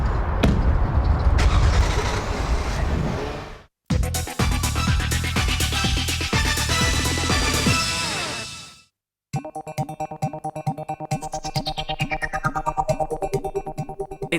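A car engine starts and the car drives off, loud and close, with engine roar rising and shifting through gears after a short pause, no talk.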